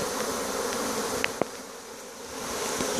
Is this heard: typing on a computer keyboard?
no